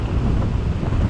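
Strong wind in New York City buffets the microphone during a bike ride. The roar is continuous and loud for a brief moment, with no talk.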